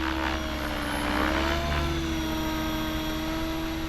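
An RC helicopter lifts off, its rotor and motor making a loud, steady close whine and drone that holds level throughout without a break.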